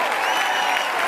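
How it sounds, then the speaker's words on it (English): An audience at a gathering claps for new family members joining the team, a steady, full wash of applause that holds at an even loudness throughout. "Give them a real Five Links round of applause to all the new family members getting started"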